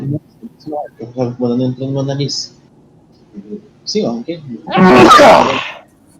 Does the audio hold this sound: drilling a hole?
no